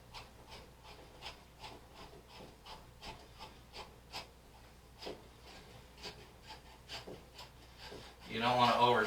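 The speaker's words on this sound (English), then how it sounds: "You don't want to over tighten these. Plastic anchors do really well, but you can strip them out, so you just want to make it snug." Screwdriver tightens screws into plastic wall anchors while a towel bar goes up, a series of quiet rhythmic rubbing twists repeating steadily, ending with louder handling noise.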